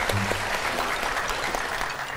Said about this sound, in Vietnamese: xin cho bạn nam một tràng pháo tay ạ.